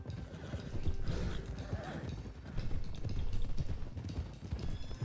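Horses gallop in a steady, dense clip-clop of hooves through Red Dead Redemption 2 game audio, with what may be a faint whinny, at a moderate, even level over a rumbling background.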